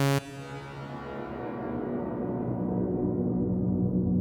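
FL Studio LuxeVerb reverb feedback pitched down 12 semitones, a dark, ominous sustained drone that starts with a sharp onset, then slowly builds into a thick low wash as its upper tones fade away.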